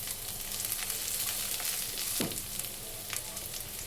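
Whole peppercorns, cinnamon, cumin and cardamom frying in oil for lemon chicken pilaf, a steady near sizzle with a brief scrape of stirring midway and no speech.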